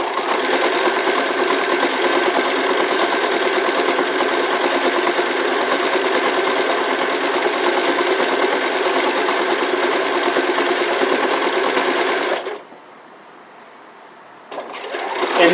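A sewing machine runs steadily and loudly, stitching a decorative stitch on an elf hat for about twelve seconds before stopping abruptly, followed by quiet and a faint restart.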